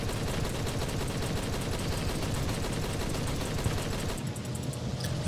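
Machine gun fire in the video game War Thunder, rapid sustained bursts forming a dense, loud, rattling stream that runs nearly the whole time before easing off toward the end.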